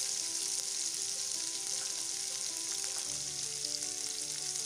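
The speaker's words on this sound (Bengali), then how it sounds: "এবার ওই তেলেই আমি কেটে রাখা পেঁয়াজ আর লঙ্কা কুচিগুলো দিয়ে দিলাম, একটুখানি ভেজে নিচ্ছি।" Chopped onions and green chillies sizzle in hot oil while cooking for a Bengali-style potol rasha, a steady crackling hiss with a few faint clinks, close and unbroken, with no voices.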